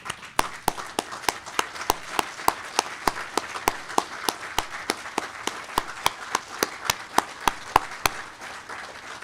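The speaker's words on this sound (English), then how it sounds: "That deserves standing up and applauding for that man" Applause for a VDOT team member at a commissioner's awards ceremony, heard as a long run of sharp, evenly spaced claps in a steady rhythm over a quiet room background, with no voices.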